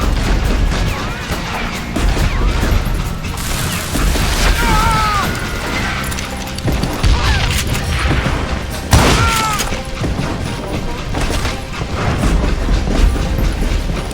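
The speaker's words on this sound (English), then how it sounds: "It was then that Jesse detached the express car from the rest of the damn train. It was a rickety ride and quite precarious." A train in the Western shooter game Call of Juarez: Gunslinger rattles along with rhythmic clickety-clack, heavy clanks and metallic booms, loud and continuous with occasional sharp bangs.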